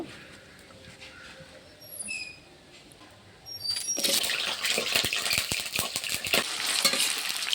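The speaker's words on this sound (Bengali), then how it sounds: "আলুটা একেবারে লাল করে ভেজে নেবো।" Washed, cut potatoes drop into hot mustard oil in a wok midway, bursting into a loud, crackling sizzle that stays steady and close after a quieter opening with light clinks.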